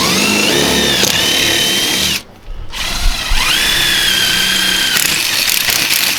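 A power drill with a 1/4 inch bit boring holes for door handles gives a loud, close whine. It runs steadily, stops briefly, then restarts with a rising pitch and bite as it cuts through.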